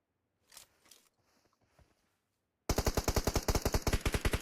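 Rapid automatic gunfire in the mobile shooter BGMI, a fast steady burst of loud close shots starting midway after a few faint clicks and scuffs, with no talk.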